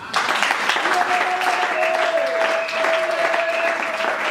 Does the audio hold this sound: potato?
no